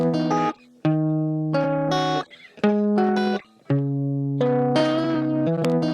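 An effected electric guitar plays sustained notes with short gaps, thick with distortion, chorus and echo.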